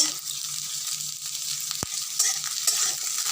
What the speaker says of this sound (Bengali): এইভাবে একটু লাল লাল করে ভেজে নিতে হবে